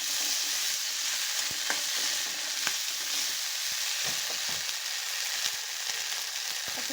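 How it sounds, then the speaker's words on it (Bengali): Ginger-garlic paste and spices sizzle in a pan of oil while being stirred for chicken vegetable noodles, a steady close hiss broken by scattered spoon clicks and scrapes. "আমি এখানে সামান্য হাফ চামচ করে আদা রসুন পেস্ট দিয়ে দিচ্ছি। মশলাটাকে ভেজে নিচ্ছি।"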